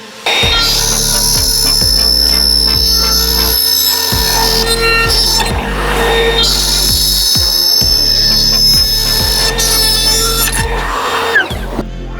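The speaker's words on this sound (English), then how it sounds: "I am absolutely loving using my new trim router." Trim router cutting a wooden shelf to fit around boiler pipes, a loud high whine with repeated rising and dipping pitch as the bit bites and eases through the workpiece, close and continuous.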